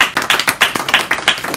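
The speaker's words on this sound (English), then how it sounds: "Can we give him a round of applause?" A seminar audience gives a round of applause after a talk on brand building. The clapping is loud and close, with sharp, distinct claps in a fast uneven rhythm and no talking.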